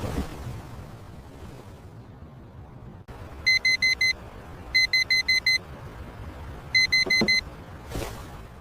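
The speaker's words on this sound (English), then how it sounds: "I turn off the alarm." A morning alarm clock goes off in three bursts of rapid electronic beeping, each a quick run of about five sharp, loud bleeps, separated by pauses over a low steady background hum; no voices.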